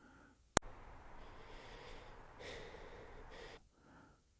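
Heavy, wet, laboured breathing comes through a wall-mounted intercom unit: a low, steady rasp lasting a few seconds after a sharp click, then fading to near silence.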